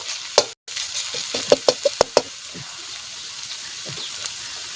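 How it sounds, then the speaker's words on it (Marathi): Crushed garlic roasts in a hot pan for a village-style maswadi masala, giving a steady sizzle with several sharp clinks and scrapes from stirring up close. "याचा लसूण टाकायचा, भाजायचा मर्दून लसूण"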